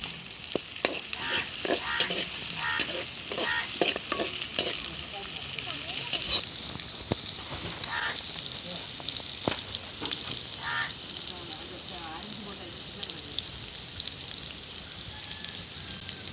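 Onions frying with salt until golden in a village-style cooking setting, loud crackling sizzle with repeated scraping stirs early on, easing into a steadier hiss, while a person talks over it.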